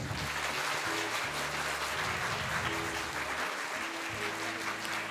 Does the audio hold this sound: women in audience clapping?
yes